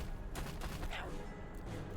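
Rapid bursts of impact and gunfire-like hits from a barrage attack in the card game Roguebook, clustered in the first second and fading into low rumble.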